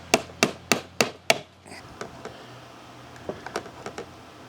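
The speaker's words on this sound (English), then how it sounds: "I'm just taking a small flathead screwdriver, and I want to get between the 2 fittings." A small flathead screwdriver prying and tapping at a broken PVC pipe fitting, giving five sharp, evenly spaced knocks close by, then a pause and a few fainter scattered clicks.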